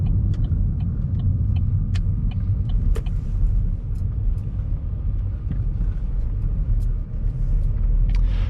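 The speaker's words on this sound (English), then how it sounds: "2013 Vauxhall Astra SRI, and he was kind enough to let me drive it today" A 2013 Vauxhall Astra 1.4 SRI cruises along a motorway, its steady low road and engine rumble filling the cabin continuously with faint scattered ticks and clicks on top.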